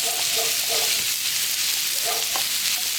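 Chopped onion sizzling in hot sesame oil in a pan, a steady soft frying hiss with a few light stirring taps, fairly quiet and without talk.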